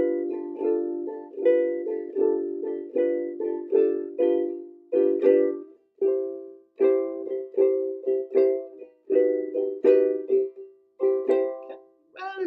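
Ukulele strumming a chord part from a showboating piece with a Crazy G, bright plucked chords in a steady, even rhythm with brief pauses between phrases, close and clear with no talking.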